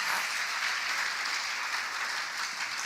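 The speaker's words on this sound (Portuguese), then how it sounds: "Pode aplaudir mesmo a palavra do Senhor." A church congregation applauds steadily throughout, a dense, even wash of clapping from many hands with no pauses and no voices above it.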